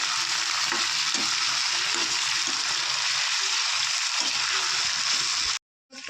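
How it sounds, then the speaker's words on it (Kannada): Eggplant frying in hot oil in a pan, a loud continuous sizzle with bubbling crackle and stirring, cutting off abruptly near the end. "ಇವಾಗ ಎಣ್ಣೆಯಲ್ಲೇ ಚೆನ್ನಾಗಿ ಫ್ರೈ ಮಾಡ್ಕೊಂಡ್ಬಿಡೋಣ."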